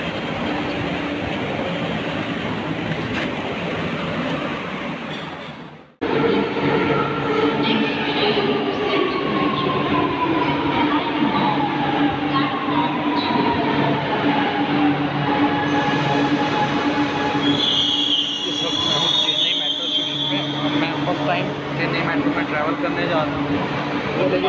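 A Chennai Metro train rumbles along with a loud continuous roar, wheels squealing and screeching at times after an abrupt start.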